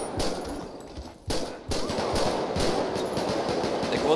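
Automatic gunfire in the GTA 5 video game rattles in rapid bursts during a chaotic night shootout, loud and dense with a short gap partway through.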